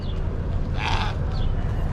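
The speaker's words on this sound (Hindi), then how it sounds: "ये लोग बकरा लेके जा रहे हैं अपना।" A single bleat from a male goat being led away on a street during Eid al-Adha festivities rises in the middle, carried over a steady bed of outdoor crowd and traffic noise.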